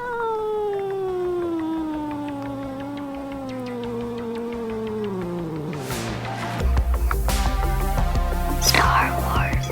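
Animated cat from the film Flow lets out a long, drawn-out meow that slowly falls in pitch, close and loud, followed by a busier stretch of rustling and clattering sounds.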